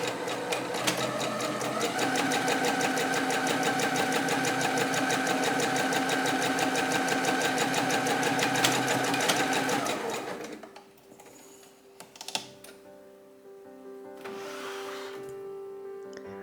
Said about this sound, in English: Then I sew the cuffs and collar into tubes.